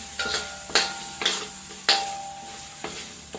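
Wooden spoon stirring shrimp guisado with Sprite in a pan, a few distinct knocks and scrapes against the pan at irregular intervals over faint sizzling.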